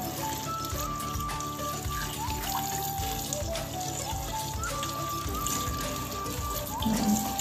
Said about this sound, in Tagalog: Make sure banlaw siya ng tubig.